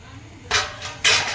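A metal plate used as a lid is lifted off a pot of dum aloo cooking on the stove, giving two short bright clanks about half a second apart, close and fairly loud, with no talk.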